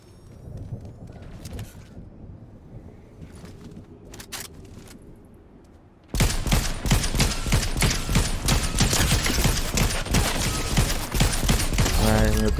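Rapid automatic gunfire in a Fortnite match, quiet at first then suddenly loud and dense for the last half, continuous close volleys of shots.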